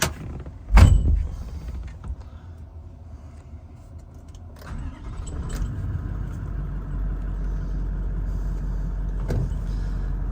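A 4.5-litre Toyota Land Cruiser 70 Workmate dual-cab chassis, a 2023 model, cranks over with a sharp burst, then settles into a steady low idle that runs on unbroken, with no talking over it.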